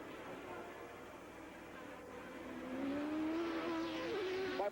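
A Formula 1 car's engine onboard Nelson Piquet's car at the British Grand Prix whines steadily, its pitch climbing gradually as the car accelerates, then dips briefly near the end, continuous and fairly loud.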